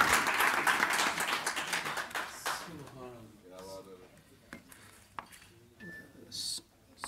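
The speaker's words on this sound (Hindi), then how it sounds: "आपसे हजरात से दरख्वास्त है कि तालियों में इस्तकबाल करें जनाबे नदीम माहिर का" An audience at an annual Urdu mushaira held by Bazm e Urdu in Qatar gives a burst of applause to welcome poet Nadeem Mahir; the clapping fades after a couple of seconds into someone speaking.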